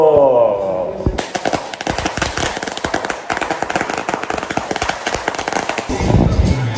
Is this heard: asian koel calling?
no